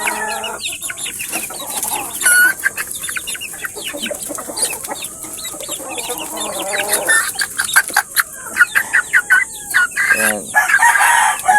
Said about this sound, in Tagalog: Ito na yung ating mga bulik.